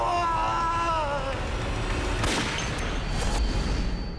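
Gunshots ring out in a Chinese-language police crime drama during a kidnapping standoff: a sharp loud crack near the middle and a second burst shortly after, following tense tonal score and a cry.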